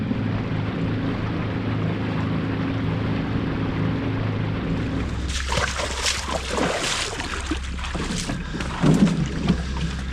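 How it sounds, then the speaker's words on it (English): Steady low engine drone of a boat on a short ride in the Newfoundland mountains, later joined by splashing water and wind noise, continuous throughout. "we should have about a 5-minute boat ride"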